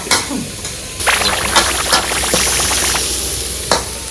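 Pork stir-frying in a pan makes a loud, close sizzle, with a spatula scraping and tapping the pan in uneven strokes. There is a brief pause near the start, then steady frying.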